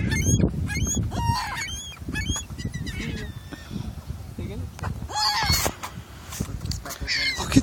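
Seagulls squawking and honking harshly while fighting, a dense run of loud close cries and calls over flapping, with someone talking in between.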